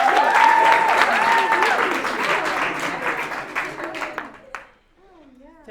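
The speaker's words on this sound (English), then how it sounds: "So, give them a round of applause." Audience applause for young artists at a youth reconciliation camp arts showcase, loud and steady with whistles and voices mixed in, fading out near the end as a voice begins speaking.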